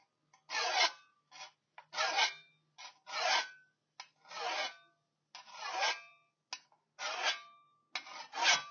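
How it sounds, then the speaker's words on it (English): A hand file rasps across the edge of a garden spade in short, separate strokes about once a second, pushed in one direction, close and clear with nothing else heard. "You always want to make sure that you're filing in one direction."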